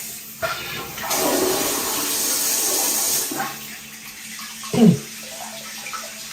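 An EPLO smart toilet flushes automatically, a loud rushing swirl of water lasting a few seconds close by, followed by quieter refilling trickles and a brief gurgle.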